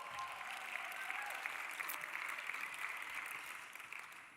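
Steady, dense applause from an audience at a 2025 podcast awards ceremony, a sustained roar of clapping that holds evenly throughout without voices rising above it.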